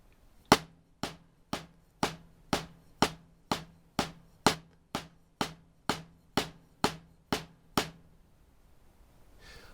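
Sticks strike a practice pad in two back-to-back paradiddles, about sixteen even, sharp taps with a few louder accents, close and dry, then a pause.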